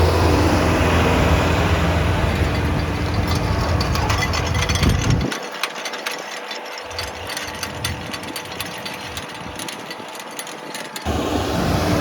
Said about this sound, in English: See those cultimulchers running, that packer spinning, front and the back, shanks.